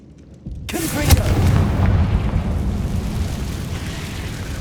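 A Confringo spell explosion in Hogwarts Legacy: a sudden loud blast followed by a rumbling, roaring burst that stays strong and slowly settles into a sustained low roar.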